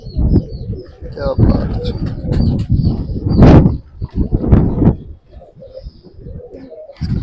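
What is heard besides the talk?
pigeons cooing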